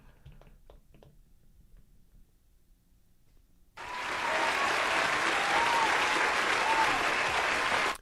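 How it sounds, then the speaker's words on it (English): A burst of crowd applause cuts in suddenly after a quiet stretch of faint talk, then holds steady and loud as continuous clapping until the end. "let's get the applause"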